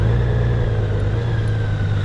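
Honda Goldwing motorcycle creeping slowly forward in walking mode, its engine giving a steady low mid-pitched hum at close range with no change in pace or revving.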